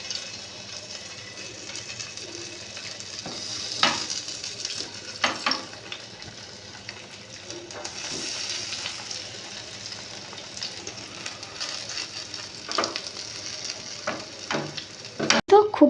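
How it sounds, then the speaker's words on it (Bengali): Brinjal slices frying in oil in a pan over low heat, a steady soft sizzle with occasional clinks and stirring knocks, close up, no voices. "এর মধ্যে একটা একটা করে এই বেগুনগুলো আমি ভেজে নেব"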